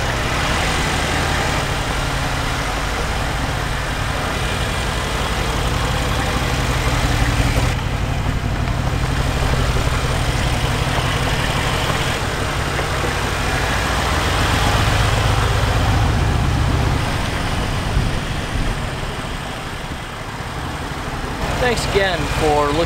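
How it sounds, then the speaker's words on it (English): A 2017 Mercedes-Benz G550 with a 4-liter bi-turbo V8 idles steadily up close, a continuous low rumble with a brief shift partway through. "V8 bi-turbo"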